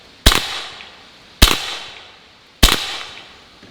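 A Pistelle X-68 air pistol fires three evenly spaced, sharp, loud cracks at a target about a second apart, each with a brief fading tail.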